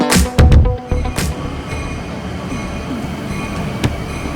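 A train rumbles at a railway station on the route toward Ollantaytambo and Cusco in Peru, with loud clanks and bumps early on, then a steady rolling roar and a brief squeal near the end.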